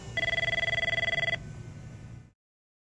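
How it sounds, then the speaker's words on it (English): A telephone rings in a rapid electronic trill for about a second, then stops, leaving a short fading tail before silence. "Go ahead, let that phone go to voicemail."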